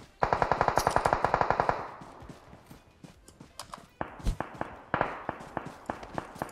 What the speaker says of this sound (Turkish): Adam atıyor abi.